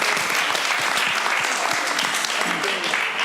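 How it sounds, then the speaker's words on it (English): Audience applause for Tristan at a relationships town hall, steady dense clapping filling the room for about three seconds with a few voices mixed in. "Can we pause and clap for Tristan?"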